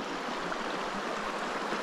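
Creek water in New Zealand's Kaweka forest flows with a steady, soft broadband rush, close and continuous with no speech.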